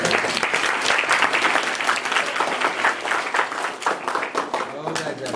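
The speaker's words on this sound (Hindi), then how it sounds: "ताली बजाइए।" Students at a girls' high school clap together in a sustained, rhythmic burst of applause during a snake awareness program. The clapping is fairly loud and even throughout, with voices faintly underneath.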